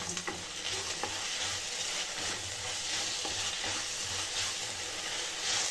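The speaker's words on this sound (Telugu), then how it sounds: "ఆ తర్వాత డ్రై ఫ్రూట్స్ని యాడ్ చేసుకోవాలి. ఇవి కూడా మిక్స్ చేసుకొని కొంచెంసేపు కుక్ చేసుకోవాలండి." Dry fruits stirred and cooked in a pan for a poha sweet prasadam, with a steady sizzle and soft repeated scraping of the spoon throughout, close and alone without talk.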